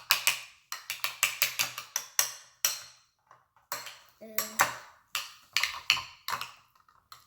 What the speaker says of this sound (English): And now mix. Cut and mix. And also try mashing it a little too.